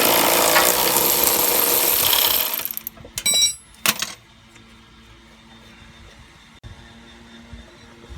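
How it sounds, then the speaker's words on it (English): Ratchet working a 21 mm shock bolt loose on a 2008 Hummer H3 while a wrench holds the back side, heard as a loud continuous grinding rattle for about two seconds, then a few sharp clicks and clanks before it falls quiet. "I'm holding the back with the wrench and got the ratchet on the front."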